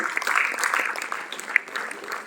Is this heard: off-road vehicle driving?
no